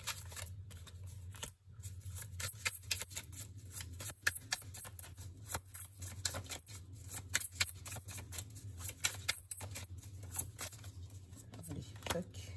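Tarot cards handled and laid face down on a table, with soft shuffling, sliding and tapping running throughout while someone talks over them.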